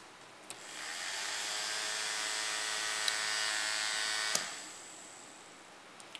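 Small electric DC motor spinning after its terminals are swapped: a thin, steady high-pitched whir that starts after a click, holds for about four seconds, then winds down with a faint click.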